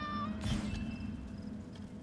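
A house cat meows once, a short, faint cry set against a quiet room with a low background hum.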